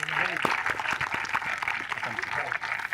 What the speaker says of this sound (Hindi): तालियां हो जाए जोरदार वंशिका।